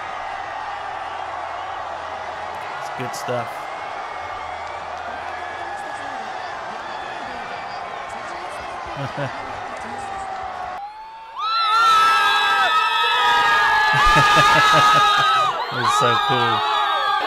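A crowd in Taiwan cheers a national baseball team's win, first as a steady background roar under someone talking, then swelling into loud, close cheering with whoops and shouts in the final seconds.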